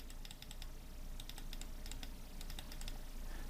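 Faint clicks of computer keyboard keys, including the Alt key, come in small clustered bursts at a desk during photo editing in Adobe Photoshop, quiet and close with no talk.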